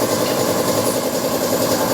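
The compressor motor of a Samsung floor-mounted air conditioner runs with a steady, close, droning hum and a faint rattling vibration, unbroken and without voices.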